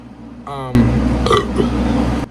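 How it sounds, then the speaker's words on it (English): A long, loud belch with a stuttering start that swells into a thick, sustained rasp, heard up close and alone for about two seconds. "Burp."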